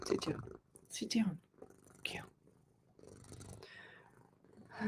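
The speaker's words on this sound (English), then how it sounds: "Can you hear that purring?" A loud house cat purring close by, a steady low rumble running under a voice as she talks to the cat.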